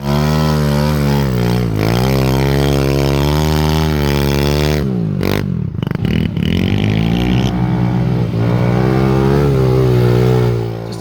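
A Yamaha V50 small motorbike repowered with a Lifan 125 four-stroke engine revs hard on a muddy hill climb, its pitch rising and falling, then cutting out with clatter before roaring again, loud and close.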